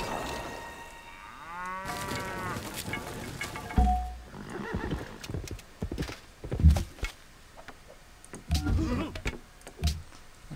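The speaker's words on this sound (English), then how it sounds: "Those are cows over there." Civilization V game sounds: a horse whinnying with clip-clop hooves, followed by lowing cattle and scattered effects, layered one after another at moderate volume without talking.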